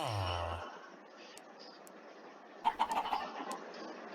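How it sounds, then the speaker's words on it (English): Chickens in a video game farm, a few short clucks arriving after a long quiet stretch, moderately loud and close with no talking over them. "Okay, there we go. We got some chickens."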